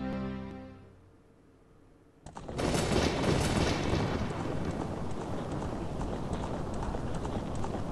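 Hooves clip-clop steadily and loudly for several seconds in The Legend of Zelda: Ocarina of Time, as a horse rides in, following a quiet, fading musical passage.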